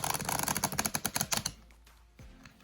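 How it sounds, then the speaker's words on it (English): A new Prism Oracle card deck being shuffled by hand, a quick run of crisp, rhythmic riffling clicks for about a second and a half, then a few soft handling rustles and a thump. "So I'm going to shuffle it for the first time now,"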